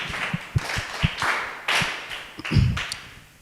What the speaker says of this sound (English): Can you give her one clap again?